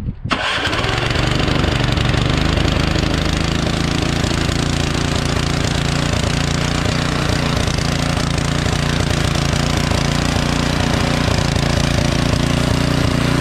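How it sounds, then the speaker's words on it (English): A rusty-carbureted Troy-Bilt Storm 2620 two-stage snowblower with a 208cc PowerMore engine cranks on electric start and catches almost at once, then runs at a loud, steady, close-up roar throughout. "I'm gonna try the electric start. Plug in the electric start, see if it works."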